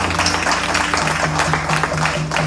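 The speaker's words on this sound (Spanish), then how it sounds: "dale un aplauso a Cristo" A church congregation claps together during a sermon in Chiapas, Mexico, a dense steady patter of hands running the whole time over a low sustained musical tone and a repeating keyboard-like note.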